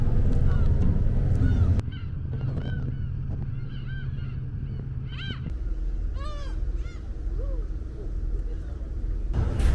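Seagulls call repeatedly close by, their cries rising over the steady rumble of a ferry and the wind on the upper deck during a ten-minute crossing from Yeongjongdo to Sinsimodo, South Korea.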